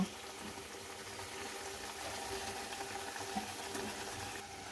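Pabda fish simmer in mustard paste sauce with added water, giving a steady, soft bubbling and hiss that continues without a break, close by and fairly quiet.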